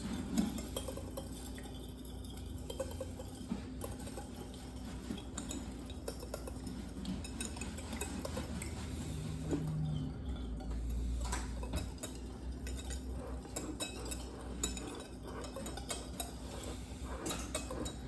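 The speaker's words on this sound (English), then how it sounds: "we're going to take the whisk or the fork and then whisk it like this" A whisk or fork beats gluten-free, dairy-free brownie batter in a bowl, giving quiet, steady, rhythmic clinking and tapping against the bowl for the whole stretch, with no talking.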